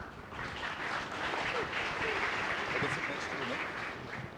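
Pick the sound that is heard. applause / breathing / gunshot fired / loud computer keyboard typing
applause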